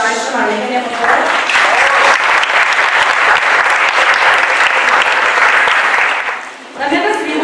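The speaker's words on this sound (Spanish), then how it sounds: "Un aplauso para la maestra María Eugenia, por favor" An audience applauds a guest speaker at an arts lecture, a full, loud burst of clapping that swells in and runs steadily for several seconds before tapering, with a voice briefly audible at the start and end.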